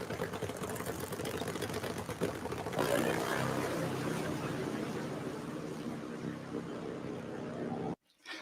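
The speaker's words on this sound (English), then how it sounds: "That's like a sound of top fuel Harley Davidson." A top fuel Harley-Davidson motorcycle engine roars loudly and steadily, swelling near the three-second mark before cutting off abruptly near the end.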